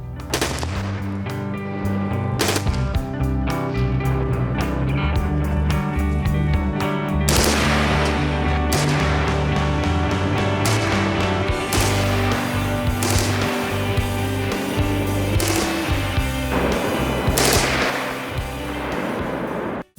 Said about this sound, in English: They actually brought out some of their equipment that they use, including an AR-15. We got a little demonstration on how to shoot the big guns.